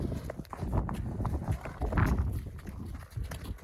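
A 4.5-year-old mare's hooves clop at a steady walking pace on hard ground, close by, with faint background noise.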